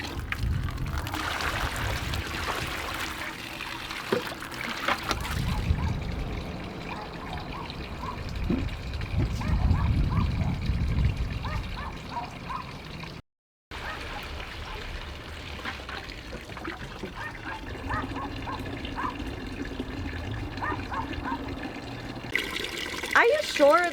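Water drains from an RV's 10-gallon water heater into a bucket, a steady pouring and splashing stream that keeps going, with people talking over parts of it.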